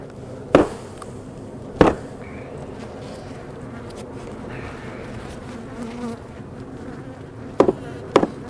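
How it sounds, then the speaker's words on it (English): Honey bees swarm and buzz in a dense, steady drone as they are cleared off a hive comb during a split, with a few sharp knocks and taps near the start and again near the end. "So let me get these bees out of here"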